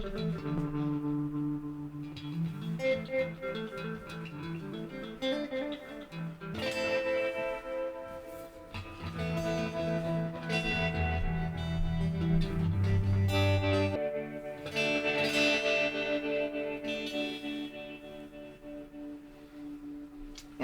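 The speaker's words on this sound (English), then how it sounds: "We can try with a delay pedal. And here's what you get with some delay." Electric guitar played through a delay pedal into a Universal Audio Woodrow amp pedal, with sustained notes and chords whose repeats trail and overlap, moderately quiet and without talking.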